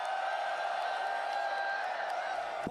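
A large crowd at a fighting game tournament roars and cheers continuously, a dense wash of shouting and whoops sustained throughout without a break.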